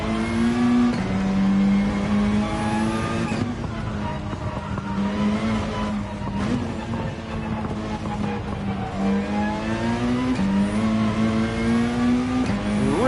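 Race car engine in Gran Turismo 7 roaring loud and close, pitch climbing through gears with brief dips at shifts as it accelerates out of a turn, sustained throughout.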